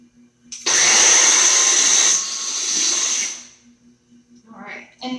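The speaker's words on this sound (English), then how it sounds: "And I got to get my blender on here." A kitchen blender pulsing watermelon runs with a loud, close whir for about three seconds, dips, then winds down before a voice speaks briefly at the end.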